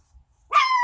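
A single sharp, high-pitched dog bark rings out after a near-silent pause, then stretches into a sustained yelping whine.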